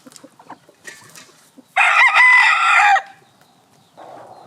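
American Thai stag rooster crowing once, loud and close, a strained cock-a-doodle-doo lasting over a second, with softer clucks and bird calls before and after.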